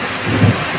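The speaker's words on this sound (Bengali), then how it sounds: "এই দেখো একদম মেঘ ডাকছে বাইরে।" A short, low rumble of thunder during a rainstorm, rising and fading within a second over a steady wash of rain. There is no talking.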